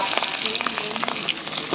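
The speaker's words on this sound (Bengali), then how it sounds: "আর শেষে ভাজা হচ্ছে ইলিশ মাছ।" Hilsa fish frying in a pan gives a dense, steady sizzle with quick crackling pops throughout, close and fairly loud, with no voices.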